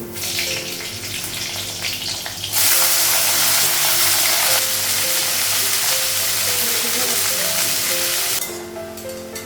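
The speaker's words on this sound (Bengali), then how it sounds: "কড়াইটা গরম হয়ে গেছে আগে হচ্ছে বরবটিটা ভাজা করব" Yardlong beans frying in a hot wok give a steady, loud broadband sizzle that swells sharply partway through and holds, with no talking.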